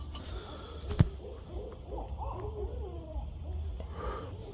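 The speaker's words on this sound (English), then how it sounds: "Here comes the owls." Faint, distant owl hoots drift through a low, steady background hum, with one sharp thump early on.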